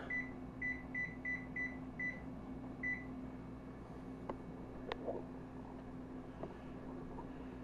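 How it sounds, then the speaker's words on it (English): A kitchen timer being set while sauce simmers gives a run of short, high electronic beeps in quick succession, then a few sharp clicks and taps, over a steady low hum from a nearby appliance. "I'm going to set this timer so I don't forget."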